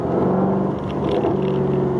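Exhaust burble of a 2020 Jaguar F-Type R with stock exhaust while shifting gears, a deep steady engine drone heard from the cabin, continuous and fairly loud with a slight change in pitch midway.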